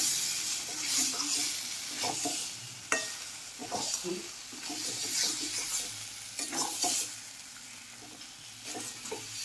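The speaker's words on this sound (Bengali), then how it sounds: "তো ঢাকা চাপা দিয়ে ধীরে ধীরে আমি মাংসটা কষিয়ে নিচ্ছি।" Marinated chicken for a country-style curry sizzles in a pan, with steady frying hiss and repeated stirring scrapes of a spoon, close and fairly quiet, no talking.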